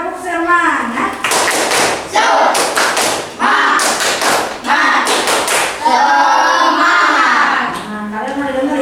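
A primary school class in Bandung claps in rhythmic bursts while chanting together, loud and close, with groups of sharp claps alternating with children's voices in a repeated pattern.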